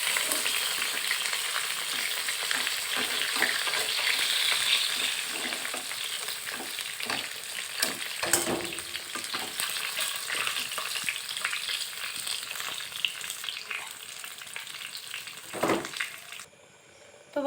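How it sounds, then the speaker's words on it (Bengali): Fish fry in oil over medium heat with a steady close sizzle that gradually softens, punctuated by scrapes and clinks of a spatula and a final knock of the pan. "আমি মাছগুলোকে ঠিক এরকম লাল লাল করে ভেজে নিয়েছি"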